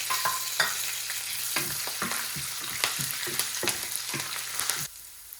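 Four to five curry leaves crackle and spit in hot oil for Gujarati green potato chevdo, sharp sizzling pops and bursts over a steady frying hiss, close up and with no voices, before the sizzle cuts off near the end.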